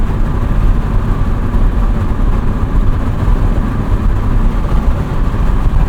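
A 1991 Honda Civic Si EF hatchback cruises in fifth gear, its engine and road noise forming a steady, loud low drone that continues unbroken with no voices.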